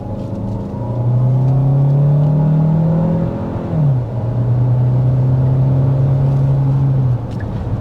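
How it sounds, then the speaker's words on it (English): A 2024 Hyundai Santa Fe Hybrid accelerates steadily with a loud, close engine drone. Its 6-speed automatic transmission makes one clear upshift midway, where the pitch drops and then climbs again. "As you could probably hear there, we are shifting through a transmission."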